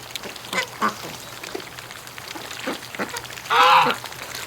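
A few scattered quacks from ducks wintering nearby, with a louder, raspier quack toward the end and soft background noise between calls.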